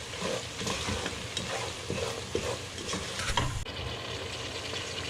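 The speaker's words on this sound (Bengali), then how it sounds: "টমেটো অ্যাড করা হলো।" Tomato goes into a hot pan with spices for a quail Arabian khebsa, sizzling and frying loudly and close while a utensil stirs with scraping strokes.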